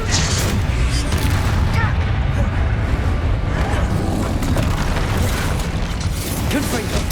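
Bombarda blasting spell explosion in Hogwarts Legacy combat, a heavy booming blast buried in a constant loud rumble of fighting, with voices speaking over the clamor.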